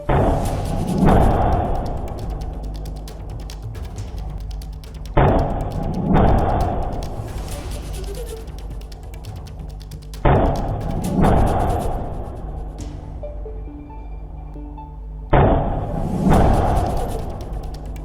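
Deep booming blasts recur every few seconds, each a sudden loud burst rumbling away into a noisy background.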